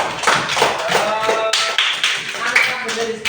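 Schoolchildren in an elementary school classroom clap in several short, uneven bursts, with a teacher talking over and between the claps.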